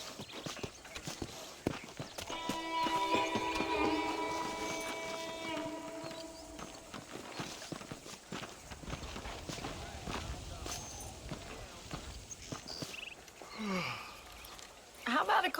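Horse hooves clip-clop at a walking pace in the Red Dead Redemption video game, a close, rhythmic clatter that runs throughout, with a voice speaking over it near the start and other game sounds later.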